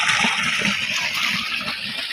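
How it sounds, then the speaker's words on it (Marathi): Steady rushing, gushing water pouring continuously from an irrigation pump with a faint low motor throb underneath, loud and close, with no voices. "तर बघा मोटर चालू केलेली आहे"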